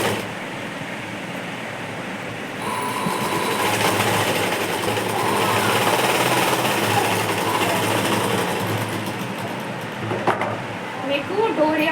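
A sewing machine topstitches along a dress neckline. It starts after a quiet moment, then whirs steadily and close for several seconds before stopping with a few light clicks.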